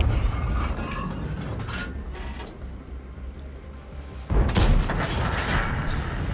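Tank cannon fire in a World of Tanks-style game, the Tortoise heavy tank destroyer's gun firing with a sharp loud blast near the four-second mark over a steady low engine rumble.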